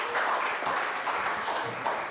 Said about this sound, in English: A round of applause for my entire panel.